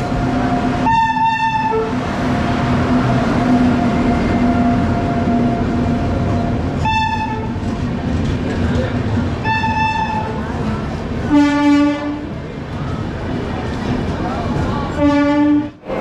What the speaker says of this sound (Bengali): 13021 মিথিলা এক্সপ্রেস ঢুকছে বর্ধমানের 2 নম্বর প্ল্যাটফর্ম